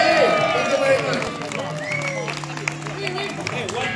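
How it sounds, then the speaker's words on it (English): Audience applause and cheering at a public event, a dense wash of clapping and crowd noise mixed with babble and a sustained tone, fairly loud throughout. "please give them a very big round of applause."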